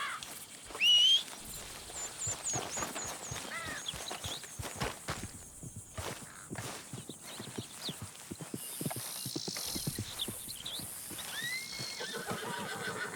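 In the video game Red Dead Redemption 2, horse hooves clip-clop in a steady rhythm, joined by a loud neigh early on, with faint whistling in the background.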